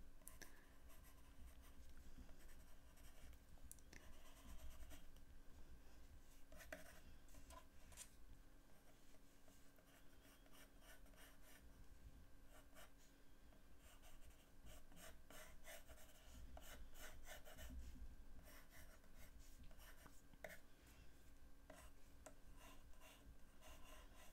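A blunt pencil sketches on paper in steady scratchy strokes, close, quiet and continuous, with brief flurries of faster rubbing and no talk.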